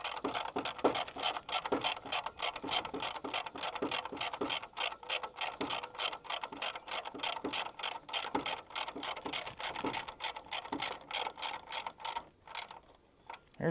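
Hand ratchet wrench turning a 10 mm bolt on a truck grille, clicking in a quick, regular series of close, crisp strokes that slow and stop near the end.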